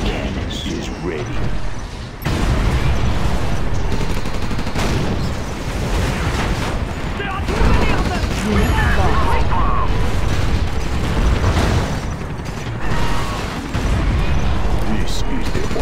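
Dense, sustained rapid gatling cannon fire and booming blasts in a Command & Conquer: Red Alert 3 battle, loud and continuous, with voices talking over the din.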